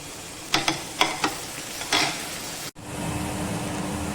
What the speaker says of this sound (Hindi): 1 प्याज को हमने जो बारीक फाइनली चॉप किया था उसे हम इसके अंदर ऐड करेंगे और हल्का हल्का सा भूनेंगे